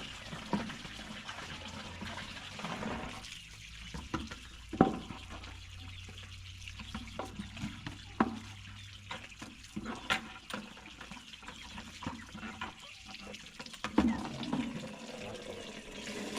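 Tap water runs while onions and tomato are rinsed, a fairly quiet, steady splashing stream with brief clatters and louder bursts throughout.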